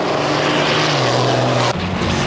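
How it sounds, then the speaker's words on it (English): A Pitts Special aeroplane's propeller engine roars loud and close at the 2001 New Zealand Drag Racing Nationals, a steady droning growl that drops slightly in pitch near the end. "Gary Bogart in the Brian Roberts Falcon had never raced an aeroplane before, but he got his chance at the Drag Nationals."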